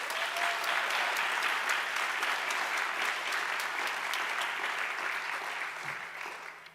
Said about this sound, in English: let's please give a round of applause to congratulate this outstanding group of nominees